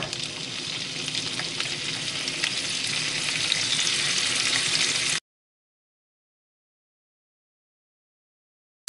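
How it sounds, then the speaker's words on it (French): Bacon lardons frying in butter in a pan give a steady, loud, close hiss that holds evenly for about five seconds and then stops dead, leaving silence. "Ensuite on va jeter nos lardons dedans."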